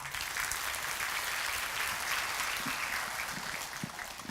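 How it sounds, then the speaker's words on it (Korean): A church congregation at a Sunday worship service warmly applauds a speaker coming forward, a thick, steady roar of many hands clapping at an even level, slightly distant and without any talking over it. "여러분 뜨거운 박수로 맞아주시기 바랍니다."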